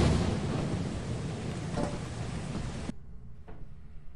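Lightning strike and thunder in the video game Lethal Company: a sharp crack within a heavy rolling rumble over rain, cutting off abruptly into near-quiet with a faint distant thud.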